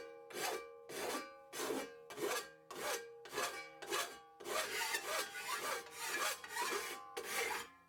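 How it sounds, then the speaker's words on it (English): A metal file rasps across a bench grinder part held in a vise, removing sharp edges in about eleven rhythmic strokes, each a loud gritty push, the later ones quicker and run together. "I'll use a file to remove any sharp edges and points"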